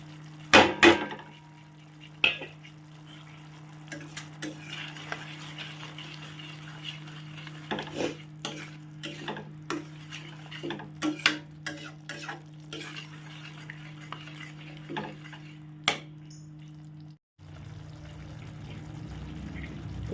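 Potatoes sautéed and stirred with turmeric, salt and Kashmiri chilli, a spatula scraping and clattering against the pan in irregular strokes over a low steady hum, with quiet frying underneath before the hum cuts out near the end.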